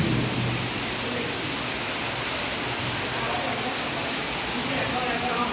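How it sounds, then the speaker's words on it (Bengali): Rainwater pours through a gap in a house wall during a downpour, a dense, unbroken rushing wash like a small waterfall that stays close and loud throughout. "তো দেওয়াল দিয়ে পানি পড়তেছে।"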